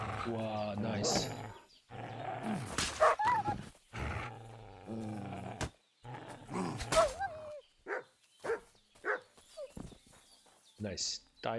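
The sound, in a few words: dogs barking and growling in video game Kingdom Come: Deliverance II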